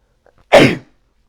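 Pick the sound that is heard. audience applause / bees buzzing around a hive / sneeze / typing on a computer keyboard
sneeze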